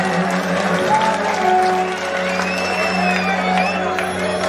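An audience claps and cheers at a live Punjabi concert in Nakodar, a dense, sustained wash of applause with music lingering beneath.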